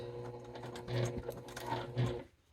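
A sewing machine back stitches through a paper greeting card, its motor whirring in a few short close bursts before stopping abruptly.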